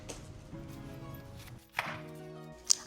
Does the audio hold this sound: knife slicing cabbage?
yes